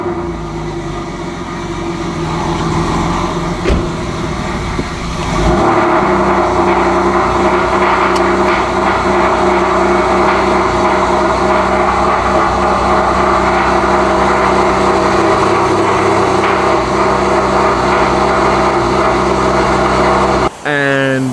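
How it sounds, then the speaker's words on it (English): A car fires up from cold and settles into a loud, steady engine drone that jumps in level a few seconds in and holds for a long stretch, with faint talk. "it is going to be one loud cold start"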